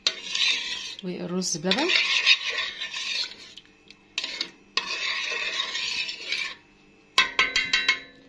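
Rice pudding with sugar and honey being stirred in a metal pot, with bursts of close scraping and clinking from the spoon broken by short pauses. A person speaks briefly between the strokes.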